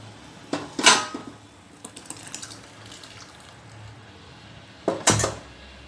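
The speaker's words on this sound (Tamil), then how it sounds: "இப்போ வந்து இந்த பருப்பை இதுக்குள்ளே சேர்த்துக்கிறேன்." Dry lentils rattle and clatter into a metal pot for sambar rice in two short bursts, fairly close, with a quiet pause between them.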